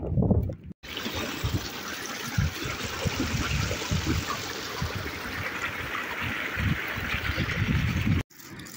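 Spring water at the Aksu hot spring trickles and gurgles in a steady, close rush, with brief cut-offs at the start and end.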